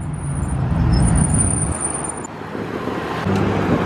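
A Pagani Huayra hypercar pulls up at a Cars & Coffee meet, a steady low engine rumble close by over outdoor traffic noise, dipping briefly midway and then swelling again.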